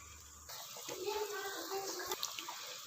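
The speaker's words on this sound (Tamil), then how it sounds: "தண்ணி வந்து நல்லா கொதிக்க ஆரம்பிச்சிருச்சு" A pot of water with peas and rice for vegetable pulao comes to a boil on a stove, soft bubbling and gurgling that starts abruptly and continues close by, fairly quiet.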